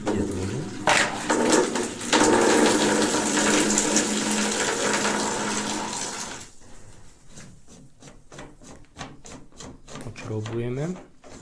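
Water gushes steadily from an opened valve on a Total Filter water filter, a loud continuous rush that thins into a weaker trickle near the end, with a voice speaking over it.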